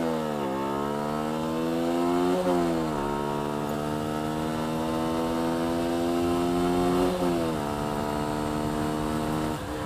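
Honda CBR125 motorcycle engine revs hard and climbs through the gears from a race start, loud and close, with rising harmonic sweeps broken by gear changes around two and seven seconds.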